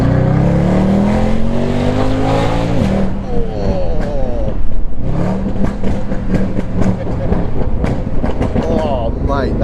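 A car accelerating hard while driving, its engine note rising in pitch through repeated sweeps and gear changes, loud and close from inside the cabin, with people talking over it.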